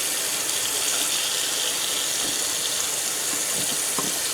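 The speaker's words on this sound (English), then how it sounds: "it's time to rinse the shirt and see what we've made and what's come out of it" A tie-dyed t-shirt is rinsed under running tap water, a steady loud hiss of gushing water close up that never lets up, with faint handling sounds and no voices.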